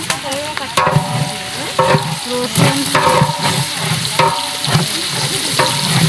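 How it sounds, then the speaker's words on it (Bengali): Onions and ginger fry and sizzle in a hot pan while being stirred, with a constant crackling hiss broken by regular scraping strokes about every second, close and loud. "পেঁয়াজগুলো লাল লাল করে ভাজি করা হয়ে গেছে আমি ভাজি করে দিয়ে দিচ্ছি আদা"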